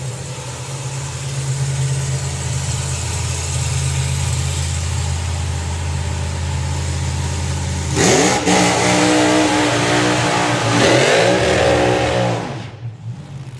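A nostalgia slingshot dragster at a drag race idles with a deep, loping rumble, then its engine is blipped and revved hard in several sharp rising bursts before cutting off.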